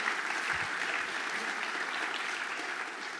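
Sustained applause from a crowd, dense steady clapping at an even level throughout.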